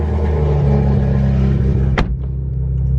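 A 1000HP Nissan S15 racecar with a new exhaust sits running with a deep, loud, steady rumble close by, with a sharp crack near the end before the engine note drops.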